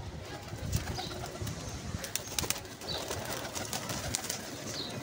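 Pigeons kept in a Lahore flock offered for sale coo softly amid a noisy outdoor backdrop, with low, repeated coos and occasional wing flutters spread through the clip at a moderate distance.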